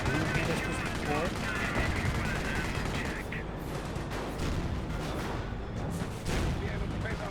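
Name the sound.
tank and gunfire in video game Company of Heroes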